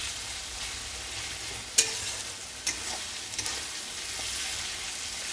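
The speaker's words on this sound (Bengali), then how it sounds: "পেঁয়াজটা আমার ভাজা হয়ে গেছে" Onion sizzles steadily in a hot pan while frying as the base for a simple home-style chicken curry, with a soft continuous crackle and a few sharp clicks from stirring.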